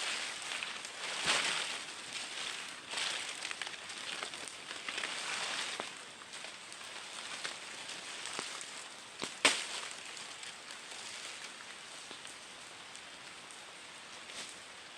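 Steady rain falls on coconut palm fronds being cleared on a Filipino plot, a soft continuous hiss with scattered drops and one sharp knock, no voices.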